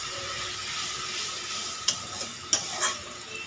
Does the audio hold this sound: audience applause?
no